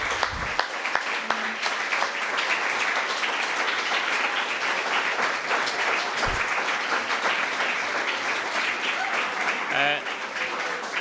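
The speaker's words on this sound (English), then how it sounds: "I'd have a round of applause for Lee." Audience applauding at a live pub politics event in a local venue, a continuous wash of clapping with a few brief voices breaking through near the end.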